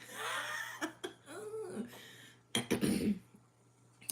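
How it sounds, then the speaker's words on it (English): A person clears their throat with a few rough, gravelly bursts, nearby and fairly loud, followed by a brief pause. "I have to clear my throat"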